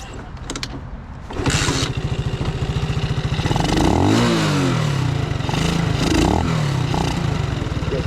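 Honda C90 motorcycle engine cranks with a few clattering attempts, then catches on choke and runs loud and close, revving up and down in rising and falling surges.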